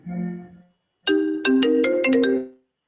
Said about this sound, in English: someone's phone is ringing on their computer